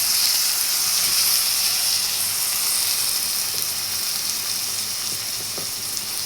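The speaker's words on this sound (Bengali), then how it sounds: "এখন এখানে আমি আদা রসুন পেস্ট দিয়ে দিব" Ginger garlic paste hits hot fried onions in a pan for an egg curry, giving a loud, steady sizzling hiss that eases slightly toward the end, with no voices.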